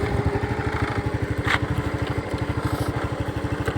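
A Scooty scooter ride in Sagara, its small engine throbbing in a fast, even pulse that stays close and steady for a few seconds.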